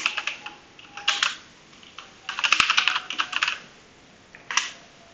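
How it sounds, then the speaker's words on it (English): Bursts of typing on a computer keyboard while a host name is entered during an Active Directory setup demo, with clustered rapid keystrokes separated by short pauses, close and clear, with no talking. "Types the host name."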